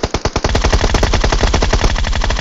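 Groza rifle firing in the game PUBG Mobile, a loud, rapid automatic burst of tightly spaced shots that runs continuously and close up.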